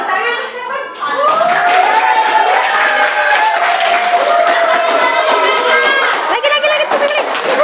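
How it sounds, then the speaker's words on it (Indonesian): An audience clapping together, dense steady applause filling the room for several seconds after a brief voice, with cheering tones mixed in. "Oke, tepuk tangan."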